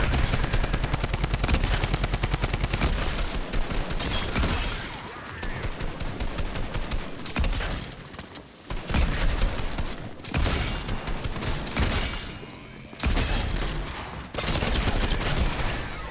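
Rapid automatic gunfire from Fortnite on a gaming PC, loud and nearly continuous bursts of machine-gun fire with brief pauses, no talking over it.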